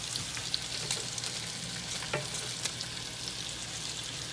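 Battered shrimp frying in plenty of oil, a steady crackling sizzle with scattered sharp pops and spatters, close and fairly quiet, with no voices.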